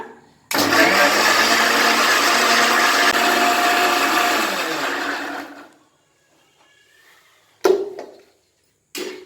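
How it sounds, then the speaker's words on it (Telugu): A mixer grinder blends onions with a little water into a coarse paste, a loud steady whir running about five seconds and then cutting off, followed by a couple of short sharp bursts. "ఇంకా మిక్సీ పడుతున్నాను"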